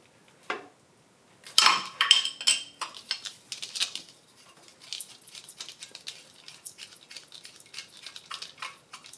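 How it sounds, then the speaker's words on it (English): Metal clinks and ratcheting clatter from a 17 mm wrench taking the starter off a John Deere 755 compact tractor, close and intermittent, with a burst of sharp metallic rattles early on and lighter scraping and tapping afterwards. "Let's take some 17s and just take the starter off"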